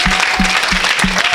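A church congregation claps and cheers loudly in praise, a dense continuous wash of applause with a steady rhythmic beat pulsing through it.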